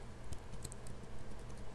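Quiet typing on a computer keyboard: a short run of light, separate key clicks, soft and close, with no voice.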